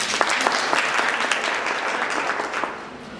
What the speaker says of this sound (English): Let's give yourself a clap.